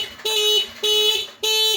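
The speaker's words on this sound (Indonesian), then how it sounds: "5 detik alarm berbunyi dan ini nggak bisa hidup ya" Anti-theft alarm on a Yamaha NMAX 155 scooter sounding three loud electronic tones in a steady on-off rhythm, each burst about half a second long with brief gaps between, close and clear.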